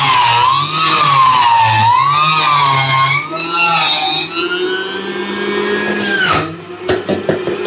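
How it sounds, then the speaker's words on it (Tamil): An electric juicer whines loudly and steadily as a whole bitter gourd is fed through it, the motor pitch wavering and rising under load before sharp clicks as it runs down. "முழு பாவக்காய் அப்படியே உள்ளே விட்டிங்கன்னா ஜூஸ் தனியாக வந்துடும் பாருங்க"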